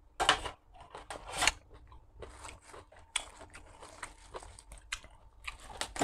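Crisp, crunchy bites and chewing of blanched fish flesh, close and fairly loud, in irregular bursts of crackling crunches with short pauses between, no talking.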